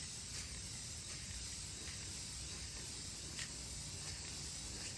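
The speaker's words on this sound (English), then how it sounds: "Now in here, unfortunately, you can only spray so far." A spray can hisses steadily inside an old Space Duel arcade cabinet under restoration, a continuous, fairly faint aerosol spray with slight surges and no talking.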